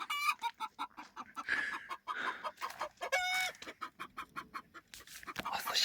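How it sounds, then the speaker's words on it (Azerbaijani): Chickens cluck and squawk noisily inside a henhouse, a dense, agitated racket of overlapping calls that rises and falls in quick bursts, close by, with a rooster-like crow among them. "toyuqlar yaman səsləri götürüb aləmi"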